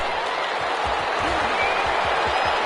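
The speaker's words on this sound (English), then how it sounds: "How about some applause for the defense there?" A stadium crowd in the Madden 21 football video game applauds for the defense after a fourth-down stop, a dense, loud, continuous wash of clapping with rhythmic low thumps underneath.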